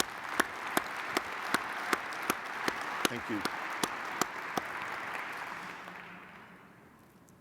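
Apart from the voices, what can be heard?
audience applause for AFCEA team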